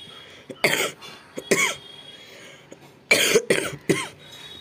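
Several harsh coughs in two bursts, close and fairly loud, with short quiet gaps between them while someone works on a pencil sketch.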